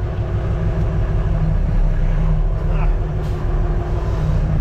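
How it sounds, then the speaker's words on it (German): A tractor's air brake releases with a short hiss around the middle, over a loud, steady diesel engine rumble on a farm where a slurry mixer is being fitted. "Bremse lösen."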